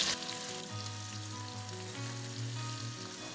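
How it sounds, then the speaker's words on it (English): A whole diced onion fries in a pot with a close, even sizzle and soft crackling. A low hum runs underneath and no one speaks. "I'm going to cook this until the onion is translucent."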